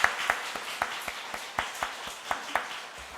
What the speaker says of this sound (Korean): 박수 한번 영광 올려드리겠습니다